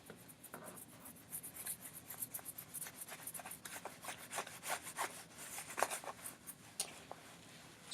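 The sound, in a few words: erasing writing on a board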